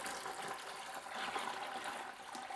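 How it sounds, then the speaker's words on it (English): A gallon of water is poured into a reef aquarium, a steady broadband splashing and gushing stream that stays loud and continuous throughout, with no voices over it. "I'm gonna add my 2nd gallon of water"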